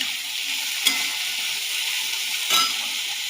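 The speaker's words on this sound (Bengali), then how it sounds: "উচ্ছেটা দিয়ে নাড়ব। তারপর দেবো পেঁয়াজ, কাঁচা লঙ্কা, একটু লাল লাল করে ভাজতে হবে।" Bitter gourd, onion and green chili stir-fry in a pan with a close, continuous sizzle, punctuated by two sharp scrapes of the spatula.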